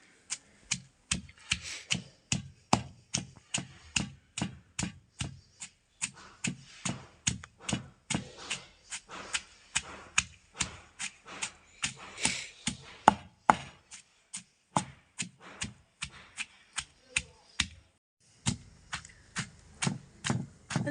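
Onions are finely chopped for coriander chutney in a rapid run of sharp, close knife taps, evenly spaced and steady, with a short pause near the end, no voices.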